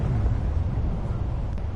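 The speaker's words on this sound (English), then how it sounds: "That explosion must have been huge." A distant explosion from the Batman: The Pact Telltale game rumbles as a low, sustained boom, heavy and muffled throughout with no voices over it.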